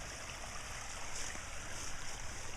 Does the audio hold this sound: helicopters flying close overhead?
no